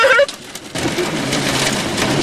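Hail and heavy rain pelting the surroundings during a tornado storm on the Great Plains, starting with a brief burst, then a steady, dense, loud clatter that continues without pause.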